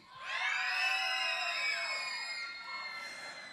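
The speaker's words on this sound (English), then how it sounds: "On the count of 3, yell as loud as you can." A crowd of kids and teens on a cruise ship yells together at full volume, a sustained mass of shrill shouting and screaming that swells quickly, holds for about two seconds, then fades.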